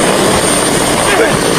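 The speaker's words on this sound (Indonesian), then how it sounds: "tiba-tiba terdengar suara helikopter yang terbang tepat di atas gedung mereka saat ini" A loud, steady helicopter roar with dense rotor and engine noise, constant throughout, flying directly over a building's rooftop.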